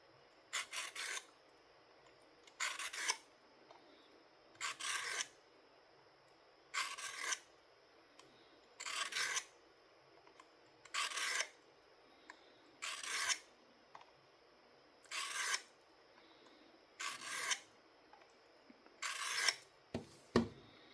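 Steady sharpening strokes of a Fox Saturn knife blade on a stone, about ten evenly spaced raspy scrapes roughly every two seconds, close and clear with no talking.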